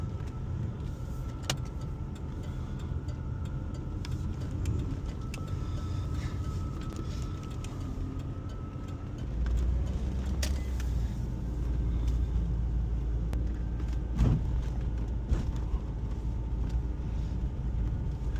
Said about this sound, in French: Donc on décolle de l'hôtel. Et un embouteillage de corvette.